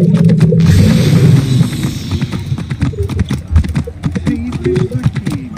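A horse galloping in Assassin's Creed Origins, rapid rhythmic hoofbeats at close range that start under a loud rush of sound and then clatter on alone, with a few irregular thumps mixed in.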